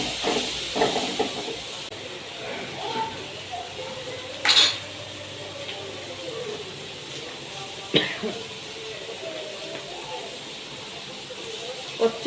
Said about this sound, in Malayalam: ഉള്ളിട്ട് ഇഞ്ചിയും വെളുത്തുള്ളി ഇട്ട്